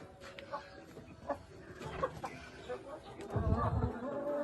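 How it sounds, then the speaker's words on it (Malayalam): Chickens cluck in short, scattered bursts close by inside their coop, with a louder rustling flurry near the end. "ഇതിന്റെ അകത്താ കോഴി കിടക്കുന്നത്."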